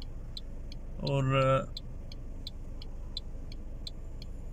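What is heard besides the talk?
cars idling and passing at a traffic signal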